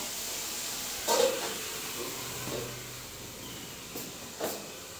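A pot of water heats on a home kitchen stove, giving a steady, soft hiss throughout with a few faint clicks and knocks over it.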